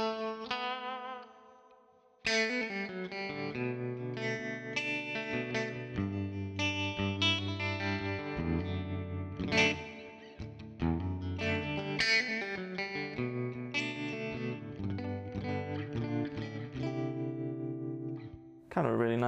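An electric guitar plays through a Yamaha THR10C practice amp with tremolo and reverb, ringing chords and notes that pulse steadily after a short lull, running almost without a break close up.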